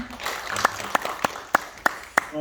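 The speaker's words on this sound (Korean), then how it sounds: "박수 다시 한번" A church congregation at a Sabbath school service gives a round of applause, with a loose spread of clapping in the room and several sharp, evenly spaced claps standing out near the front.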